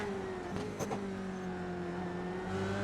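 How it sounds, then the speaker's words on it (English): A Formula 3 race car engine drones at a steady pitch while the chassis scrapes and rumbles over the bumpy Belle Isle street circuit, heard from on board in a racing video game. "You just hear the car scraping against the road."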